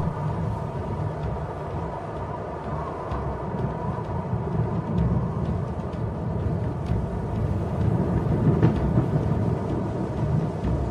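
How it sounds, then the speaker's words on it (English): Deep, continuous rumbling of thunder from an approaching storm on the African plains, a broad, low roll that swells slightly and never breaks off, with no voices. "A storm approaches."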